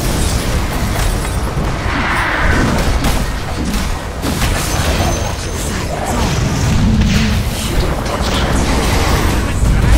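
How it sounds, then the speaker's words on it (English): In a Dota 2 match, the middle tower is destroyed. Loud, dense booms and crashing debris continue for several seconds over busy battle noise. "Middle tower has been destroyed."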